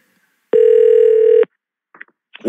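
A telephone ringback tone sounds during a caller connection on a live radio show: one steady, loud, unbroken tone of about a second, followed by silence and a few faint voices.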